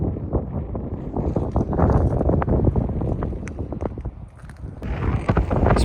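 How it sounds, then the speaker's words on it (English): Strong gusts buffet the microphone outdoors beside a canal lock near castle ruins, a rough, rumbling roar that swells and dips, with faint knocks and rustles underneath and no talk. "It's a bit windy."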